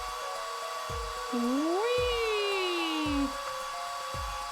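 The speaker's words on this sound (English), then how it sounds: "Alright, blast it with a hairdryer" A hairdryer blows on plaster in an Ace Attorney game with a steady, even whir throughout, while an upbeat voice exclaims over it and a short gliding tone sounds midway.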